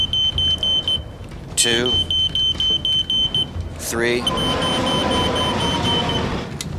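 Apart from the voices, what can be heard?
smoke alarm beeping three times as distress signal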